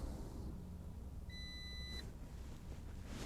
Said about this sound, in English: Beeped at me.